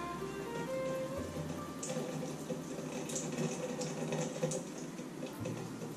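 Water squeezed out of grated zucchini twisted in a cloth, a soft continuous dribble and patter of liquid falling, fairly quiet and close with no talk over it.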